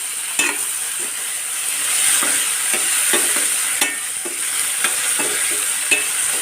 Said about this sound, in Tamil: இது நல்லா தக்காளி வெங்காயமும் நல்லா வதங்கட்டும்